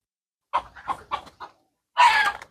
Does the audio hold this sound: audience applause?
no